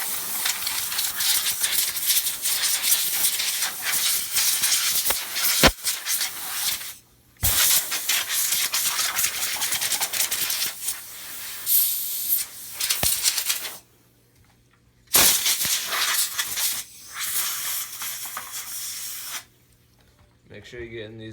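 Air compressor nozzle blowing off a radio-controlled car during cleaning, a loud steady hiss in long bursts separated by brief pauses, with a few small clicks and rattles.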